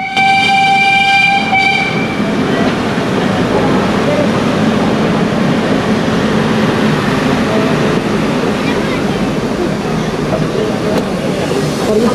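A train sounds its horn briefly at the Ooty railway station, then a loud steady rumble of rolling cars fills the remaining seconds.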